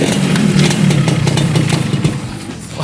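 Yamaha RX-King 135 two-stroke motorcycle engine being revved, a loud close buzzing rasp with rapid throttle flutters held steady for about three seconds.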